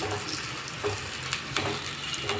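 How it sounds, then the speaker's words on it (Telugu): Green chilies, curry leaves and onion fry in hot oil in a pan for an Andhra-style crab curry. A steady, close, soft sizzle crackles throughout, with light stirring. "ఈ మూడు కలిపి బాగా వేయించుకుందామండి"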